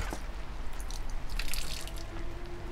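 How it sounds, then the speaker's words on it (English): Small faucet in a video game running water into a relatively clean ceramic basin, with light dripping and splashing trickles over a steady low wash, close and moderately quiet, no talking. "Oh, a relatively clean ceramic basin. The small faucet is still functional."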